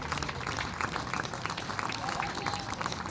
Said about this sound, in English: she gets a really good round of applause